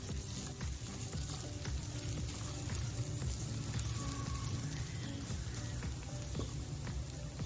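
Samosa filling sizzles and fries in a pan as chopped ingredients are sautéed, a steady close crackle with occasional stirring scrapes throughout.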